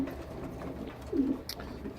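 Young racing pigeons coo softly and continuously in a loft, a low steady burbling close by with one slightly louder swell near the middle.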